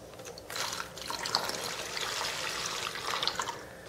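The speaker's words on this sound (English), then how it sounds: "take your 2 cups of water and put it in." Two cups of water poured into a Ziploc bag already holding rubbing alcohol for a homemade ice pack, a steady close splashing and trickling pour lasting several seconds without talk.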